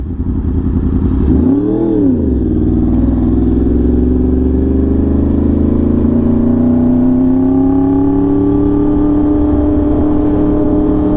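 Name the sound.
Yamaha R1M motorcycle revving with SC Project exhaust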